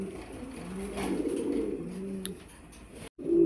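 A Gazi Modana pigeon coos nearby in low, rolling repeated calls, fairly clear and moderately loud, with a brief dropout just before the end.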